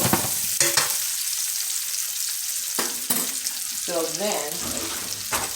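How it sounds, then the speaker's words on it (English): Onions frying in bacon fat for smothered pork chops, a steady broadband sizzle with scraping stirs and brief clatters, a short spoken phrase partway through. "I just want them to get nice and caramelized in that bacon fat."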